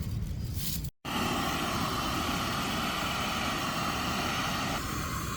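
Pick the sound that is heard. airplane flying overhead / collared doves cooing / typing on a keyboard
airplane flying overhead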